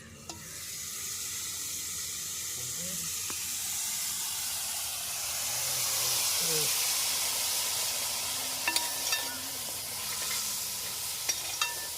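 Boiled vinegar poured into a container of fish pickle sizzles and hisses steadily, building to a louder fizz, with a few faint clinks and brief voices.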